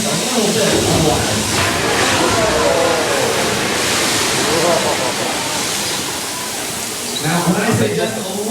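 About 1,000 gallons of ice-cold water dump from tanks and roar down a chute onto a freight ship in a water special effects show, a loud, sustained rushing wash that fills the whole stretch, with crowd noise beneath.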